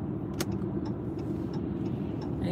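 A bus pulls away, its engine a steady low rumble close by with faint rattles and ticks above it, constant in level throughout.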